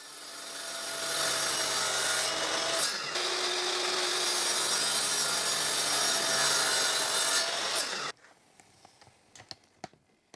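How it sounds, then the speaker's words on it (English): A miter saw cuts through thin wooden strips for a display cabinet, a loud steady whining cut lasting several seconds, then the blade cuts off abruptly and winds down amid light clatter. "I meter cut one end of the 8 pieces I need"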